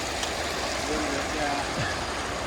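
Water of a mountain creek in the Blue Range flows in a broad, steady wash, close and continuous, with faint voices murmuring underneath.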